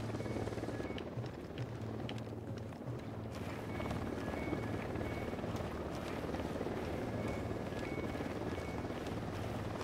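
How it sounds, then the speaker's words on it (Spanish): A helicopter in the video game Ghost Recon Wildlands drones steadily with a low rotor thrum and broad noise, holding a constant level throughout with no talk. "Un helicóptero, que no os vea."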